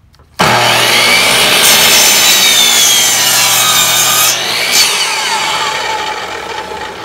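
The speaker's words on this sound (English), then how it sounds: "That's showing 36 on my miter saw. So let's make this cut." A miter saw spins up abruptly and cuts through wood at a 36-degree angle, a loud, close, rasping whine lasting several seconds before easing off as the blade winds down.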